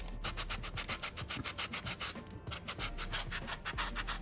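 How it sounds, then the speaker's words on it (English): Steady back-and-forth sanding on a wooden cross, a rhythmic rasping scrape repeating several times a second, close and continuous. "I am going to give the cross a little bit of sanding"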